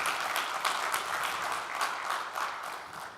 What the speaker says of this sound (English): A warm applause for them,